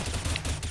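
Rapid burst of gunfire in a video game shooter round, a quick run of sharp close shots packed into well under a second.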